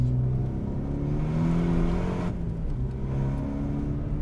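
A small car fitted with a Citroën GS engine, slightly smoking bluish from burning oil, at the Lohéac rallycross track; a steady, fairly close engine drone holds throughout with mild swells and no talking.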